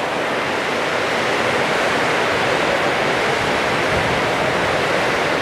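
Torrential rain driven by strong wind outside a house under construction, a loud, unbroken roaring wash of drops with low rumbling gusts beneath.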